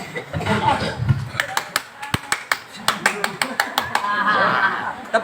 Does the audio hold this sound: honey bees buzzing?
no